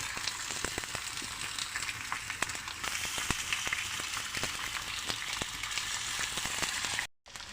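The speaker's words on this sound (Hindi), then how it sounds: "थोड़ा सा घी डालेंगे और आपको दिखाएंगे कि कैसे इनको फ्राई करना है" Potato sandwiches fry in hot ghee on a griddle, a steady dense sizzle with scattered crackles and pops, close and continuous, briefly cut off near the end.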